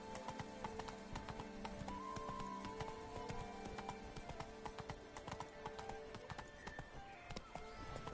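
Horse galloping in The Witcher 3: Blood and Wine, a steady rapid clip-clop of hooves with a brief whinny, faint overall over soft outdoor ambience.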